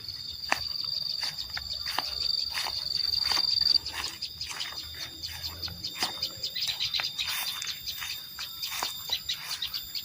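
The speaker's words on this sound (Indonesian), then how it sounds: "Banyak burung, teman-teman, tuh burung mencari makan di pohon kersen." Many birds call and chirp in quick, repeated bursts while feeding in cherry trees in a village. Near and far calls overlap, over a high steady insect-like whine in the first few seconds.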